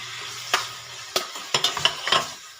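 A kilo of chicken pieces sautéed with onion in a pan for Filipino corn soup, soft frying sizzle under several distinct scrapes and clacks of a spatula stirring against the pan, close by.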